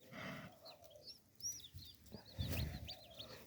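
Newly hatched turkey chicks peep in high, repeated chirps on a home farm, with a brief louder rustle or cluck near the middle, no talk.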